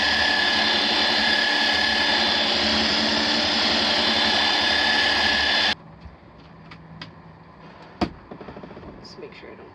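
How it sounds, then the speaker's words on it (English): A power sander works a wooden bed panel for a GMC campervan, droning loud and steady for several seconds before cutting off abruptly, followed by quieter scraping and a sharp knock. "Now I just have to sand down the one for the front and fit it in"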